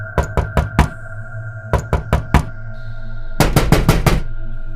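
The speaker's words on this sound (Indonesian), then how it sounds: "Suara ketukan itu terdengar lagi." Knocking on a house's front door in groups of sharp raps, three or four at a time, loud and close, with short pauses between the bursts and a faster, denser final group, no voices.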